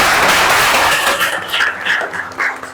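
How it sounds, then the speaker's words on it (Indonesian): A classroom of students gives a round of applause: loud, dense clapping that starts at full strength and breaks into scattered, uneven claps and a few voices as it trails off. "Kasih tepuk tangan"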